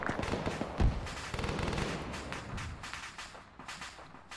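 Gunfire rattles through an Arma 3 firefight, with overlapping bursts and scattered shots, one heavier close report near the start, then a busy mix of near and distant fire that slowly thins out.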